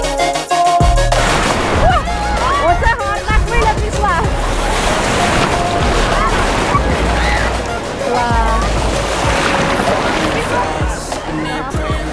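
Loud, continuous rush of crashing artificial waves in a thermal water park wave pool, dense and roaring throughout, with people's voices and shouts mixed into the noise.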